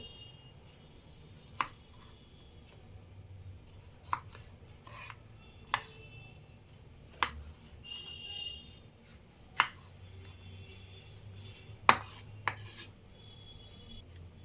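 A knife chops ripe pointed gourd (potol) into pieces on a board, with about eight sharp, distinct cuts spaced a second or two apart against a quiet kitchen background.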